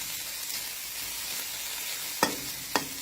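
Mekong river fish frying in a pan over raised heat, a steady broadband sizzle throughout with two sharp utensil clanks near the end, no voices.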